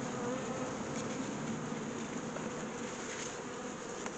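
Dark bees (F1 hybrid colony) buzzing at their hive, a dense continuous swarm drone heard up close and steady throughout, with no talk.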